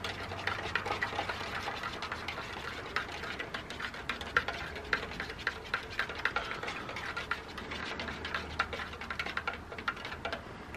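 A drink mix being stirred in a cup gives a fast, steady series of light ticking and clinking taps throughout, close and fairly quiet, with no speech.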